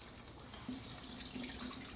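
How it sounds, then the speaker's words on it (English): Water pours from a cooking pot of potatoes into a kitchen sink, a faint steady rush and splash lasting a couple of seconds with no voices over it. "I'm going to drain this water out."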